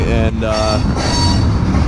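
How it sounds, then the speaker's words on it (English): Slow freight train with gondola cars loaded with trash rolling past near an overpass, a steady loud rumble with wheel squeal and a brief voice at the start. "I'm pretty sure this is a Longview train, and I don't want it because it's full of trash in that gondola."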